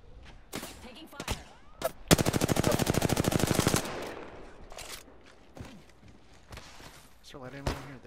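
A shooter video game erupts in a rapid burst of automatic gunfire lasting nearly two seconds, framed by scattered single shots and thuds before and after, with voices heard faintly in the background.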